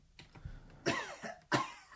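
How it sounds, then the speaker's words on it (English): A person coughs in a quiet room, a few soft throat sounds followed by two sharp, close coughs, the second louder and cleaner. "I feel like I have to cough again"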